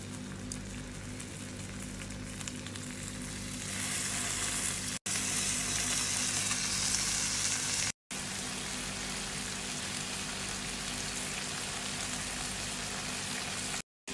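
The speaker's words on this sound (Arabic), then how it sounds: "نبتدي نشوي." Spicy BBQ chicken drumettes sizzle loudly on a grill in a steady, dense crackle, with a couple of abrupt breaks.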